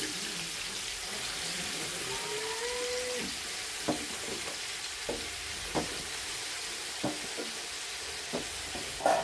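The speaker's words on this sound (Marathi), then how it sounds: "ते तेलामध्ये बघा चिकन टाकून घेत आहे तेलामध्ये तेल टाकलेलं आहे चांगलं" Marinated chicken dropped into hot oil in a pot, giving a steady, fairly loud broadband sizzle and hiss with a few scattered sharp pops and crackles throughout.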